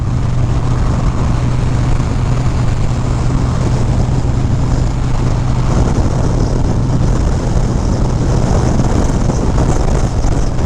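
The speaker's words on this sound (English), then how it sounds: "it is really windy right now" Strong wind roars and buffets the microphone continuously in Michigan City in a dense, loud rush with a low steady hum underneath.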